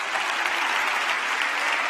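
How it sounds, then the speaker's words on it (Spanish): A church congregation claps loudly and densely throughout a worship service, a continuous close crackle of many hands with no pauses. "Denle un aplauso al Rey bendito."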